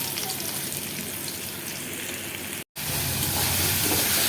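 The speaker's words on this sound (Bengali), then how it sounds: "চলো বন্ধুরা আগে আলুগুলোকে ভালো করে ভেজে নিই" Potatoes frying in a pan for a home-cooked Bengali chicken and keema meal give off a steady, dense sizzle that runs unbroken except for one brief dropout partway through.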